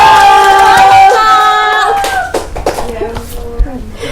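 Audience at a talk show event clapping and cheering to welcome a guest, a loud burst of shouts and applause that thins out into scattered voices and a few claps.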